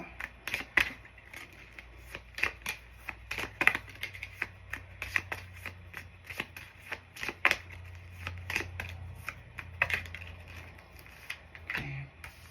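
Oracle cards are shuffled by hand, giving soft, irregular riffling and snapping clicks that come in scattered bursts over a low background hum, close and fairly faint.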